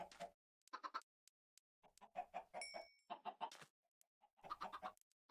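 Chickens in the video game Desertopolis, several bursts of clucking in quick, uneven clusters separated by silent gaps, close and fairly quiet.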